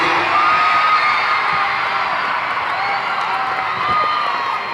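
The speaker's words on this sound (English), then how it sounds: "Give me all the applause." A packed concert audience at the opening show of a world tour roars continuously, with high whoops, screams and applause blending into a loud, steady wall of sound throughout.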